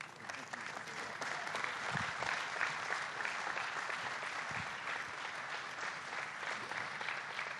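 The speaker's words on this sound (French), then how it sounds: "Ça, ce sont des applaudissements de gens qui ont faim" An audience at an award ceremony applauds steadily throughout, a dense, even wash of clapping heard from within the hall.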